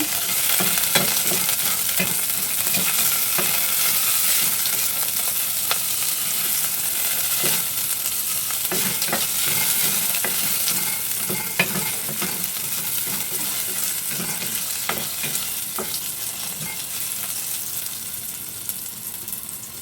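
Chopped garlic sizzles steadily in hot oil in a pan as sinigang is started, with frequent scraping stirs clicking through the continuous frying hiss, close and fairly loud, no voices.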